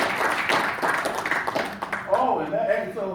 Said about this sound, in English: another big round of applause for Mother